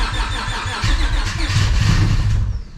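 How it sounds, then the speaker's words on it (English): A nitrous stroker V6 swapped into a Honda Civic cranks and catches, a steady low engine rumble building and holding loud and close throughout, with no talk over it. "We're like on the verge of firing up."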